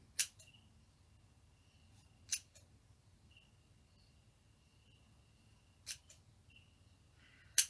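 Scissors snipping through loops of crochet fur yarn, four crisp separate cuts spaced a couple of seconds apart, close and quiet in an otherwise hushed room, with no talking.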